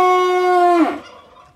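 A very unhappy Scottish Highland bull gives one loud, close, drawn-out bellow. It holds a steady tone, then breaks off sharply into a rough, falling tail.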